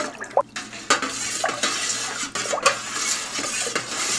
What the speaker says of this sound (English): Now we stir some more.